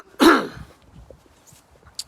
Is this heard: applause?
no